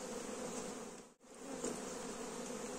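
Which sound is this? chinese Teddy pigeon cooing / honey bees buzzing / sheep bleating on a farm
honey bees buzzing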